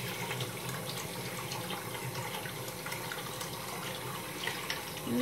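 Water from a household tap runs steadily into a sink, a continuous close hiss and splash that holds at an even level throughout.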